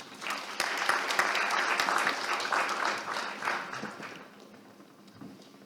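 Audience applause fills a hall after an address at a business resilience summit, a dense, loud burst of clapping that holds steady for several seconds before thinning out toward the end.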